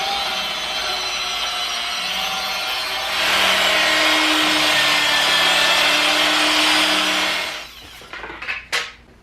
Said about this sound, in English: for headlights, I'm going to use the rotary